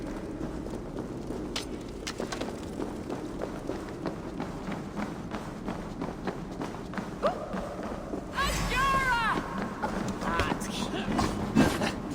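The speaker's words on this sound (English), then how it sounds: "Footsteps." Running footsteps approaching in Assassin's Creed Valhalla, a quick series of thudding steps repeating steadily and growing closer, followed by a louder rushing burst near the end with a voice speaking over it.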